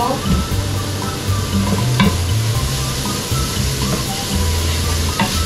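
A whole chopped onion sizzles in a hot pan for Filipino spaghetti, a steady close frying hiss broken by the clatter of a utensil stirring it, with no talking.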